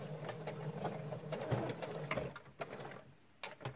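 A sewing machine runs steadily for a few seconds, stitching backward at the end of a seam on a knit beanie, its motor hum continuous with a few small clicks and shifts near the end.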